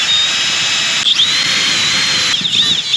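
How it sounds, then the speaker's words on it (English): A drill runs continuously at high speed, its whine dipping and surging twice as the bit catches while boring tiny weep holes in the exhaust manifold of a 1936 Caterpillar RD4. "I want to drill out these very tiny little weep holes and make sure they're clean"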